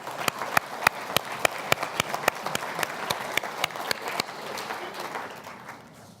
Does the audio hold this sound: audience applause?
yes